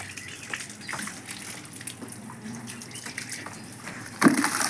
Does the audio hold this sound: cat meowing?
no